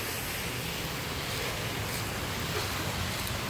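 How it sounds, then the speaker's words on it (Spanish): Sea surf by the shore in a city downtown makes a steady, broad roar of waves with wind, continuous and fairly close, with no talk. "Aquí estamos al lado del mar."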